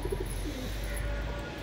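Pigeons give low, soft cooing calls that repeat in short phrases over a steady background hum, with no one speaking.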